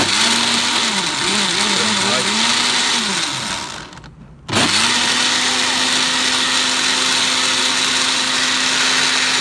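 Countertop blender making a smoothie, running loud and steady with pitch wobbling as it is pulsed, cutting out briefly midway before roaring back up for several more seconds.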